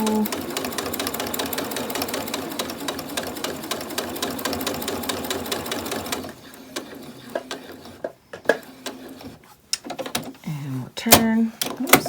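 A home sewing machine stitching fabric scraps into cord keepers, a fast steady mechanical whirr that stops midway, followed by short bursts of stitching and handling noises while a person talks.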